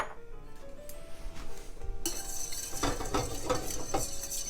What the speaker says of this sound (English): We're going to take our parsley. We're going to stir it in.